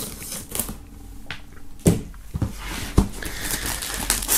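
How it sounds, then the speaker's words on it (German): Plastic wrap film is cut and pulled off a large cardboard box, close and moderately loud, with crackly crinkling and sharp snapping bursts in irregular bunches. "Wir werden mal als allererstes die Folie abmachen."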